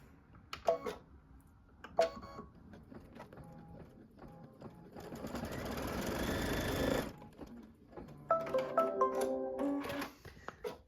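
A sewing machine runs one continuous burst of about two seconds, stitching a trimming placement line on a quilt block, set among scattered clicks and quiet handling noises before and after.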